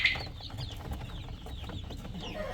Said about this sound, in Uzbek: Mana bu yerda yana o'sha Kuchinskiy yubileyni jo'jalarimiz chiqishni boshlagan do'stlar